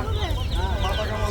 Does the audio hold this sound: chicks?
yes